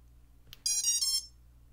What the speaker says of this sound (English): So you get the first half of the beep patterns, but then also watch the motors here.